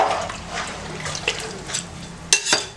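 Water pours into a large pot of mutton biryani being cooked for a crowd, a close, steady splashing and trickling with a few clinks of the vessel near the end.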